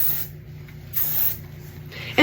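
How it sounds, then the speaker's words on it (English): Short hissing bursts of heat protectant sprayed from a bottle onto hair before straightening, two or three light pumps close by with quiet pauses between them and a louder bump at the end. "you will need to grab your heat protectant and lightly spray your hair"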